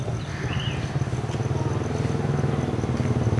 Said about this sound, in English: you can hear the motorbikes on dropping their kids off for class